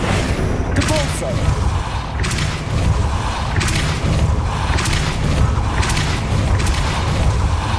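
Depulso pushing spells are cast in the Hogwarts Legacy video game, a run of loud, booming impacts that land roughly once a second over a constant low, rumbling game background.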